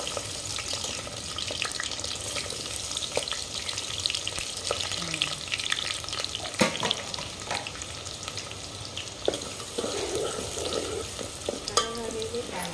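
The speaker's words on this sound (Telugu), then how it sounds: "ఉల్లిపాయలు మొత్తం కట్ చేసి ఉల్లిపాయలు వేస్తుంది." Chopped onions frying in a pan for a goat head curry, a steady sizzle with scraping stirs and occasional clinks of the utensil, close and moderately loud, no talking.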